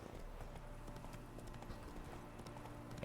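Faint, steady clip-clop of horse hooves in The Witcher 3 open world, a continuous walking rhythm at low volume with no talk over it.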